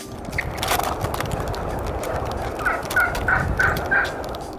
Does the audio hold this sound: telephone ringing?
no